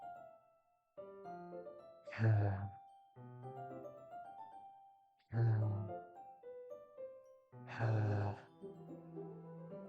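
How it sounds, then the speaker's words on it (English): Sharp, breathy inhales sucked through teeth from the Doki Doki video game come in three distinct bursts over soft, sustained background music. "A sharp inhale, like someone is sucking in the air through their teeth."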